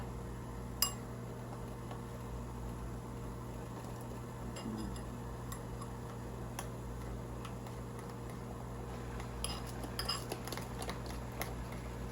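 A metal spoon stirs food for soup joumou in a bowl, giving scattered light clinks and taps against the side over a steady low background hum, quiet and close, with no talking.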